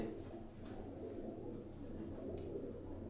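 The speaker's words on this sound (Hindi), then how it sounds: "ये परवाजी कबूतर आपको दिखा रहे हैं, शौक करवा रहे हैं परवाजी कबूतरों का जी" Flying pigeons kept for tournament flights, cooing softly and steadily over a low, continuous background hum, with no talking.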